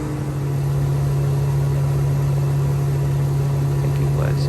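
A Viking 150 aircraft engine at reduced power, around 4,500 RPM, holds a steady tonal drone with a continuous whirring hum at moderate level in flight.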